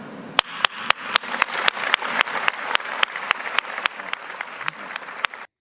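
A small group claps steadily, the sharp individual claps distinct and fairly close, continuing for several seconds before stopping abruptly.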